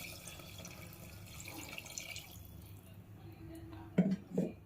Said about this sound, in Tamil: தண்ணி ஆட் பண்ணுறேன்.